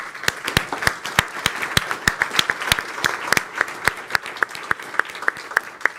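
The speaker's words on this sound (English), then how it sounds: "Please give them a hearty applause." Audience at a circular-economy conference panel session claps, a modest crowd with distinct individual hand claps rattling steadily for several seconds, no voices over it.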